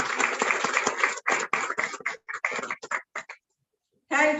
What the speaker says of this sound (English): So can we have huge round of applause for everyone?